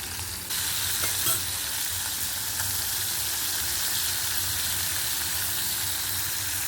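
Fish rubbed with salt and turmeric hits hot oil in a pan and sizzles loudly, a steady close, dense frying hiss that starts abruptly and continues evenly, with no voices.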